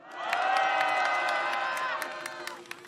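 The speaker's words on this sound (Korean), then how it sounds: "박수를 부탁드리겠습니다." At a candlelight protest rally, a crowd cheers and shouts in a loud, sustained swell, with scattered claps popping through before the noise fades near the end.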